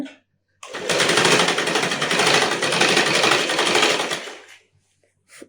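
A sewing machine stitches falls onto the edge of a saree in one continuous close run of about four seconds, steady and fairly loud, then stops, with no speech over it.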